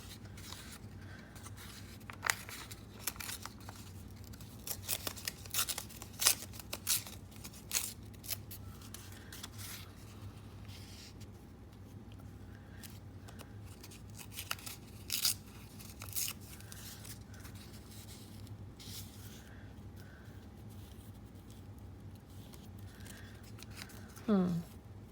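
Scissors snip through paper or cardstock while making library pockets and cards, a run of short crisp cuts scattered through a quiet room with rustling and handling noises, and a voice talks now and then.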